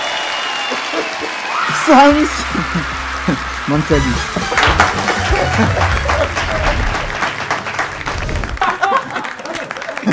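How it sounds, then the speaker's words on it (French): A studio audience applauds the guest Moussa Mansaly: a thick wash of clapping swells and runs for several seconds, close and loud, with a voice speaking over it at the start. "faites un tonnerre d'applaudissements pour l'invité Moussa"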